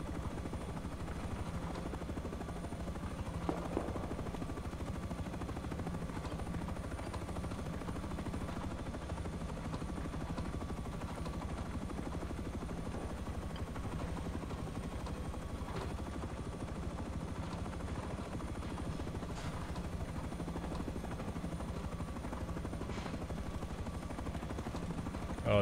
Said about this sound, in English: we got the fucking attack heli escort service